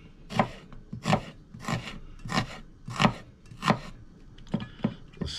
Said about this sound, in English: I'm cutting up everything quite small for this.